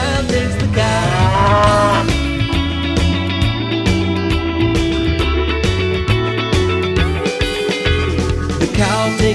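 A cow moo sounds within a lively children's nursery song about farm animals, blended into steady music with bass and melody running loud throughout.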